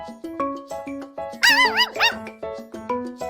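A dog's short, regular yips and barks in close, steady succession, broken midway by a rising whiny howl or whimper, all close and fairly loud with no talking.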